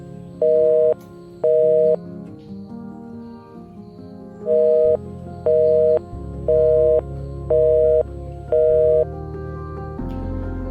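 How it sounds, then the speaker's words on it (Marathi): A phone call that fails to connect plays a busy signal: a steady tone pulsing on and off in short, regular beeps under a low background hum. "कितलो वेळ जालो हरीशाक फोन करता पूण ताका फोन लागना"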